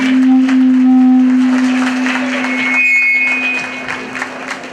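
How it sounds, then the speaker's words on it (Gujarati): Applause for guests being welcomed at a village primary school Republic Day event, a dense, loud round of clapping over a steady tonal hum that gradually thins out. "આપણે તાળી સાથે વધાવીએ"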